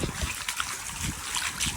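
Floodwater from heavy rain in Kathmandu rushing and trickling down from above, a continuous close watery wash with splashes and some wind buffeting on the microphone.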